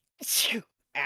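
A single sharp, breathy sneeze up close from a video game character in Ace Attorney Investigations 2, followed by a short voiced sound.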